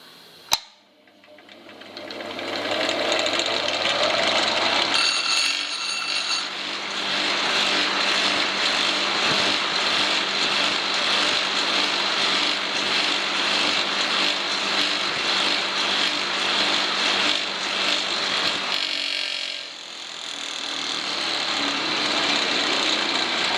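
A homemade belt grinder's motor switches on with a sharp click, then runs at a loud, steady drone for about twenty seconds, dips briefly near the end and picks back up.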